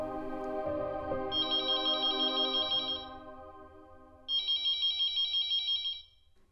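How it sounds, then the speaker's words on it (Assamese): A mobile phone ringtone sounds in two bright, repeating bursts at close range, cutting over a soft musical background with a short pause between the rings. "হেৰা তোমাৰ ফোন আহিছে"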